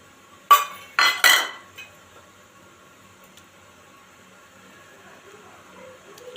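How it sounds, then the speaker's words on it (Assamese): Metal idli plates and bowls clink together while the plates are greased with refined oil, three sharp close clinks in quick succession followed by near silence. "এয়া এতিয়া গোটেই বাতিত মই তেলখিনি সানি ল'ম"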